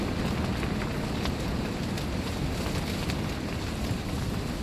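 Rain rattles steadily on a carp fishing shelter, a dense, even patter with wind buffeting the microphone, continuous and fairly close with no voices.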